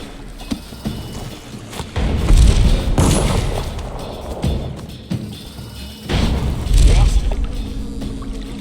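Gunfire in the video game Dishonored: The Knife of Dunwall, two bursts of heavy booming shots with thuds in between, amid game ambience and spoken voices.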